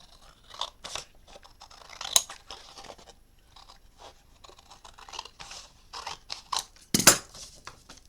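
Scissors trimming stacked journal paper along the outer lines, giving scattered crisp snips and crunchy cuts in an irregular rhythm, close and fairly quiet, with one sharper snap near the end.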